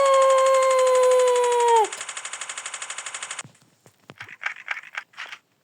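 Rapid automatic gunfire from the video game Chicken Gun, a dense even burst of about a second and a half. It follows a sustained siren-like tone and gives way to brief clicks and faint voices.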